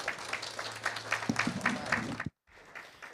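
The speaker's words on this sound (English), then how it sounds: "Another round of applause for Ms." Audience applause for a Golden Apple teacher of the year at an award gala, a dense burst of clapping that cuts off abruptly, then resumes faintly, with a voice briefly underneath.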